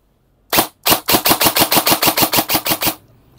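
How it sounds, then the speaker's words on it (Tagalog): An airsoft gun with an MP5 mid-cap magazine fires two single shots, then a loud, close full-auto burst of about a dozen rapid, evenly spaced cracks lasting roughly two seconds before stopping. "So FPS out of the box is around 350 to 360. Full auto."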